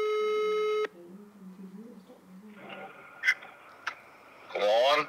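A steady electronic telephone tone from an unanswered call sounds for under a second, then voices and background chatter take over.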